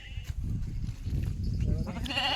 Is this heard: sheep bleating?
yes